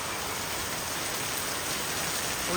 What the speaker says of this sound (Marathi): येऊ दे पाऊस